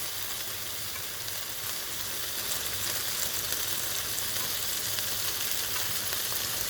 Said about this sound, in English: that sear is looking really good, even on the asparagus